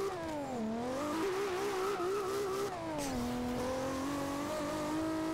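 A tuned Toyota Supra putting out 1056 kW launches in the racing game Forza Horizon 2, its engine note climbing and dipping through revs with a faint hint of tire squeal.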